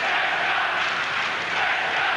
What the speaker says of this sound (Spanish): seguidores italianos que aplauden al Cheska. Que animar al Cheska